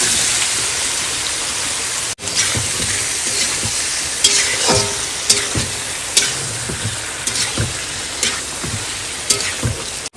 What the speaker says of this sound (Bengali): এবার দিয়ে দেবো গোটা জিরা, ব্যাস এবার সব ঢেলে দেবো।